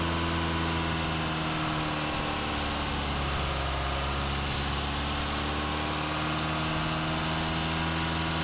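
Mazda 2.5L SkyActiv-G engine idling during a Seafoam intake cleaning with a vacuum leak raising revs, a steady low hum with a faint rise partway through, running alone.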